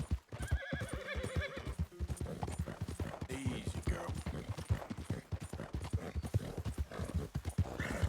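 A horse in Red Dead Redemption 2 clip-clops along in a quick, uneven rhythm of hoof strikes, neighing and whinnying now and then, with someone talking over part of it.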